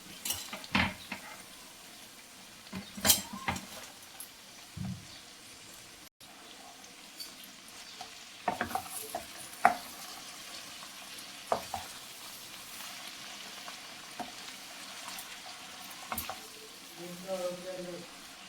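Chopped amaranth leaves added to a pan of sautéed seasonings for a tomato curry, giving a soft, steady sizzle with occasional stirring clatter and scraping, fairly quiet and close, with a brief murmur of voice near the end.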